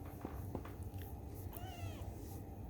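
A kitten, a tailless rescue, gives a couple of soft, high meows, the clearest one rising and falling near the end over low background rumble, fairly close and faint.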